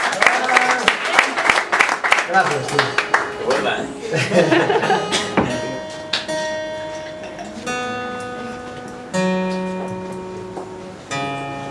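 Audience applause at a concert, a dense burst of clapping and chuckles that thins out as sustained musical tones take over, loud and close.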